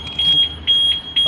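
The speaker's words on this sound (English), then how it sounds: "That's the alarm." The alarm of a 2016 Audi A4 Avant S-line sounds as three loud, sharp, evenly spaced electronic beeps close by.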